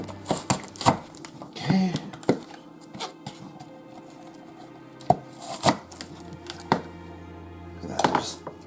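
Nutri Chopper chopping onions, a string of sharp plastic clacks and thuds at uneven intervals, with short bursts of blade whir and rattle near the mic and a brief spoken word.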